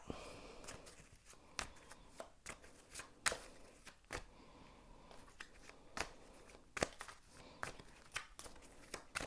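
Tarot cards are shuffled in quick, crisp riffles and snaps close by, a soft repeated flutter in an otherwise quiet room.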